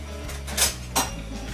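Two quick metallic clinks of cutlery and dishes as a knife is fetched in a home kitchen while making scalloped potatoes, close and brief over a low steady hum.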